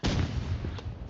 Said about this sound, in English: Whoa, rocket launcher.